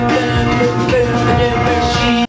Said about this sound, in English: the bass is establishing that similar drone feel because it's not changing note